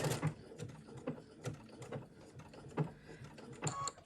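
A sewing machine runs a decorative stitch pattern on fabric, giving a steady mechanical whir with rhythmic clicks and thumps about every half second, close and moderately loud, with no talking.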